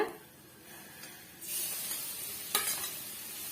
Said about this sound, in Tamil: இதே நெய்யில வந்து நம்ம எடுத்து வச்சிருக்க கேரட்டை இதோட நம்ம சேர்த்து வதக்கி விட்டுக்கலாங்க